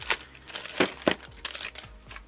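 Plastic bags holding white paint pens crinkle and tear as they are cut open with scissors. The sound is a quick, uneven run of close, sharp rustles.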